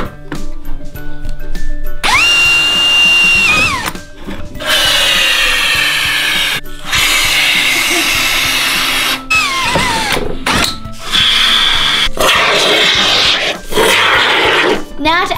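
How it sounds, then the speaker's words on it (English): A power drill bores a hole into a plastic toy car, whining in several loud bursts of a few seconds each, its pitch dropping as the bit bites, with short pauses in between. "I'm going to drill a hole and put some foam in."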